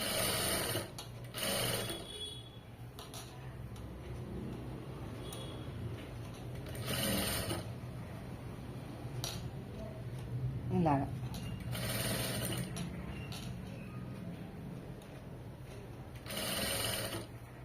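A sewing machine stitches folded fabric in bursts of rapid mechanical whirring, separated by pauses, close by. A person talks over and between the runs.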